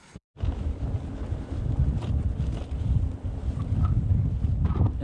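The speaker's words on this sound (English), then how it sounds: "It's getting quite windy actually." Steady buffeting wind rushes across the microphone while cycling on a bikepacking ride between Amiens and Paris, a continuous low roar with gusty swells and no talking.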